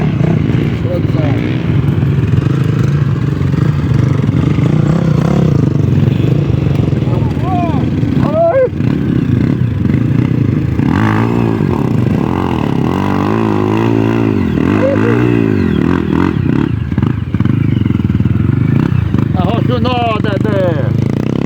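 A motocross motorcycle churns through mud, its engine droning and revving in rising and falling pitch sweeps, heard under almost constant nearby talk from several people.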